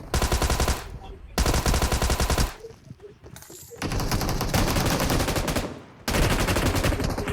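Bursts of rapid automatic gunfire in PUBG Mobile, loud and close, in several long volleys separated by brief quieter gaps.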